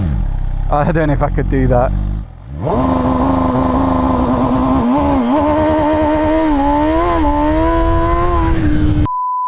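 A 2021 MV Agusta 800 Brutale RR motorcycle launching in first gear at full throttle, its engine note climbing loud and close through the revs. A rider briefly speaks at the start.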